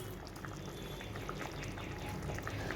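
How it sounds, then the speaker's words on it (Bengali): Fried bacha fish pieces added into boiling curry in a pan, giving a steady wet bubbling and sizzling wash with small splashes throughout, close and moderately loud, no talk. "ঝোলটা ফুটে গেছে, এবার আমি এর মধ্যে সব মাছগুলোকে দিয়ে দেবো।"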